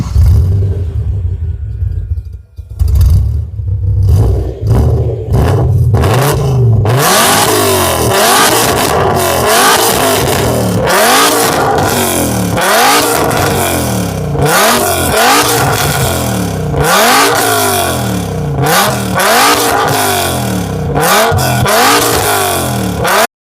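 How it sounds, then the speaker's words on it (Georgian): A 10-cylinder car engine with a modified exhaust system (headers, custom throttles) cranks and fires, then roars through a long series of sharp, loud revs that rise and fall in a repeating rhythm, close up and alone. "ეს არასტანდარტული ხმა არის 10 ცილინდრიანის."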